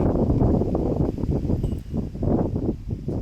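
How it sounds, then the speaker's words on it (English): Strong wind roars outdoors across a disc golf course, a loud, low, buffeting rumble surging and easing in gusts close to the microphone, with faint rustling and no talk. "you can just hear it. The wind is ripping today"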